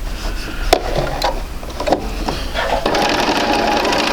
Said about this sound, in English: Okay, we'll sew that.